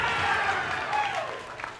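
At a bowling event, a crowd claps and cheers in a dense, continuous wash of applause, with voices mixed in underneath.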